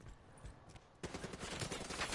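Rapid gunfire from a multiplayer video game shooter crackles in quick bursts, faint at first, then a louder, denser volley of shots takes over in the second half.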